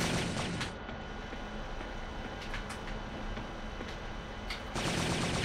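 Gunfire at a video game firing range is heard as dense, continuous rattling shots over a steady roar, with a few sharper cracks standing out and no voices.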